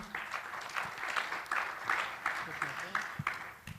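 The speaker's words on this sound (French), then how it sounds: "On peut les applaudir pour leur présence, merci." An audience at a round-table conference on hydrogen energy applauds, with a dense, steady patter of many hands clapping throughout, fairly close and sustained.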